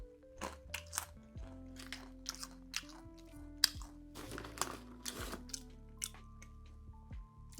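Close-up crunching and chewing of spicy banana chips, with irregular sharp bites and softer wet mouth sounds between them, no talking.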